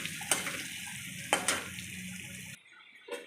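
Ingredients for fried rice frying in a pan, a soft steady sizzle broken by a few sharp stirring clatters, cutting off abruptly near the end before one last brief clink.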